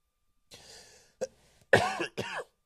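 Several harsh coughs come in quick succession, close to the microphone, with short silent pauses between them.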